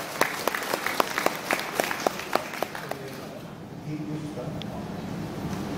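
Warm applause for a singer, a room of people clapping in a lively rhythm that fades out after a few seconds into quiet murmuring and a voice.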